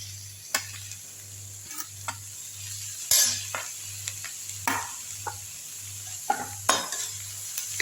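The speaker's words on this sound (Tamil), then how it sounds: "நல்லா வதக்கி விட்டுருங்க." Manathakkali greens and onions sauté in a pan with a steady low sizzle, broken by repeated sharp clicks and scrapes of a spatula stirring against the metal. There is no talking.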